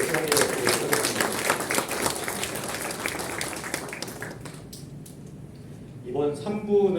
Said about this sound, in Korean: 서로 박수하면서 학술을 시작해보도록 하겠습니다